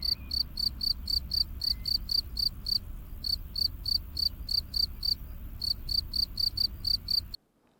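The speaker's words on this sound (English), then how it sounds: "yeah, crickets." Crickets chirp in a fast, steady pulsing rhythm, loud and continuous over a low background hum, stopping abruptly at the end.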